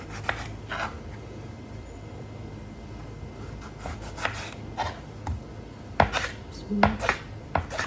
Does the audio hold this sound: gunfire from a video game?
no